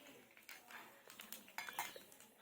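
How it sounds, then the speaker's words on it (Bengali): A metal spatula stirs black cumin seeds in hot oil in a pan, making faint, scattered scrapes and light metallic clinks close up. "এবার আমি খুন্তি দিয়ে একটু নাড়াচাড়া করে নিলাম"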